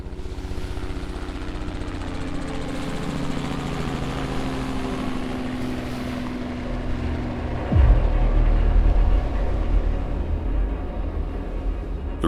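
Steady mechanical drone of rotor and engine noise, continuous throughout, growing louder and heavier toward the end as the aircraft passes close.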